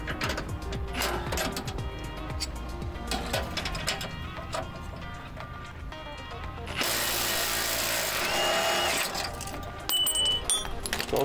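A power tool grinds and cuts off a truck body mount bolt during frame rail replacement on a 2009–2014 Ford F-150, loud close rough buzzing that turns into a harsher sustained high whine near the end.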